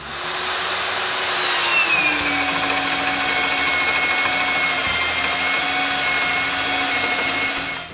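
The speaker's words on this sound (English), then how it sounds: "First, I drill a hole." A power drill boring a peg hole in wood whines steadily and loudly for the whole stretch, its pitch dipping slightly as the bit bites in, with no talking.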